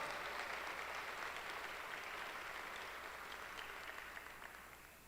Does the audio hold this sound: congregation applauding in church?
yes